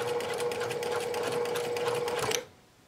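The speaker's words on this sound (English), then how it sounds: "return your stitch back to the normal length, back stitch, and continue on." A sewing machine runs a fast, even stitch while making a composition book cover with a zipper pouch, whirring steadily and close for a couple of seconds before it stops abruptly.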